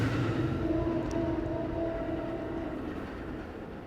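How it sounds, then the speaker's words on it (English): A neighborhood train rumbles past nearby with a broad, steady roar and faint squeals, gradually fading as it moves away. "Our neighborhood train again, they go by quickly"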